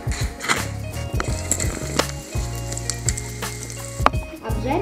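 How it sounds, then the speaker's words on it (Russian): Breaded cutlets fry in vegetable oil in a pan over medium heat, giving a steady, close sizzle and crackle with occasional knocks from the pan, under a low background hum. "Обжариваем котлеты на растительном масле на среднем огне, постепенно переворачивая."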